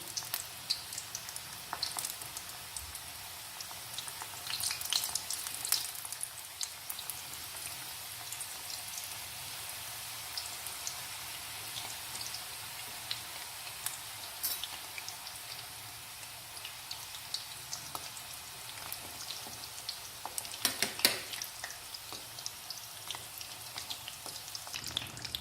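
Mutton spring rolls fry in oil over medium heat until golden brown, giving a continuous soft sizzling hiss dotted with small pops and crackles, with no talking.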